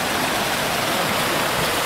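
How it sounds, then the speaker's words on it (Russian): A mountain-like river in a village rushes and churns with steady, loud broadband water noise, close and continuous with no voices. "О, какая горная река в Потеряевке. Прям как в горах."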